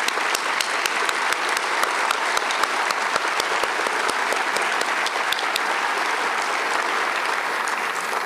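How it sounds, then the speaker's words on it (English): An audience at a lecture event gives a sustained round of applause, a dense, steady patter of many hands clapping throughout with no pauses. "would you all stand so we can give you a round of applause?"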